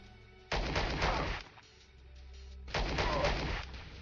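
Weapon fire during ship combat in the Star Traders: Frontiers video game: two loud, dense bursts of synthetic blaster fire about two seconds apart, each lasting under a second and heard alone.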